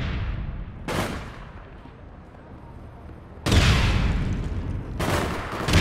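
Gunfire in the online shooter APB Reloaded, sharp bursts and volleys cracking out at intervals with quieter gaps between, moderately loud in the game mix.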